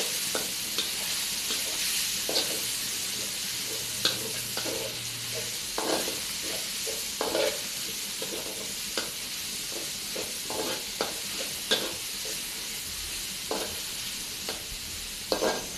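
Minced pork stir-fried in a hot pan for a quick Thai rice dish, with a steady loud sizzle of oil beneath repeated scraping and clanking of a spatula tossing the meat over and over.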